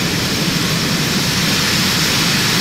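A jet airliner's engines roaring at takeoff power in Microsoft Flight Simulator X, a steady loud broadband rumble and whine filling the whole moment without talk.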